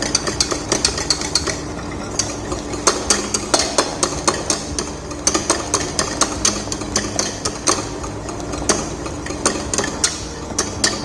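A whisk stirring pastry cream in a pan on the stove, making steady, rapid metallic clicks and scrapes that keep a constant rhythm close by, with a low background hum.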